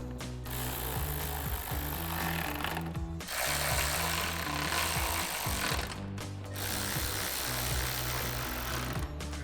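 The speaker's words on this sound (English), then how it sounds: "we'll take a 10mm socket and tighten these down" A 10mm socket on a ratchet tightens the headlight bolts on a 2014-2015 Chevrolet Silverado 1500, making rapid, continuous ratcheting clicks close up in long runs broken by two brief pauses.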